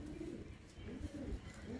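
Pet racing pigeons kept by a fancier in Mullanpur coo close by in soft, repeated low throaty phrases.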